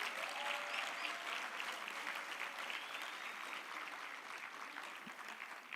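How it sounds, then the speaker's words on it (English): Sustained applause from a conference audience, steady dense clapping throughout with a slight fade near the end, no talking over it. "Let's give a proper round of applause."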